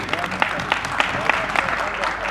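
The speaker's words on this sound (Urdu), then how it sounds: "شکیل صاحب کے لیے بھرپور تالیاں ہونی چاہیے." Applause from an audience at an annual mushaira, a Pakistani community poetry gathering in Portsmouth, with dense continuous clapping and a few sharper claps punching through, fairly close.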